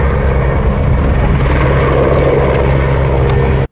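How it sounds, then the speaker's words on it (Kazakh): A military helicopter patrolling over a district at night gives a loud, continuous rotor and engine drone that stays close and steady throughout. "ауданды түнімен әскери тікұшақ қарауылдаған"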